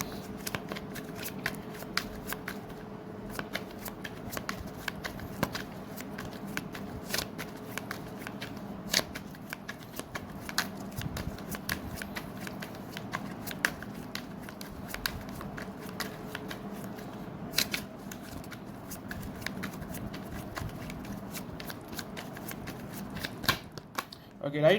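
Tarot cards are shuffled by hand in a steady stream of soft riffling and flicking, close and quiet, while a person talks over it.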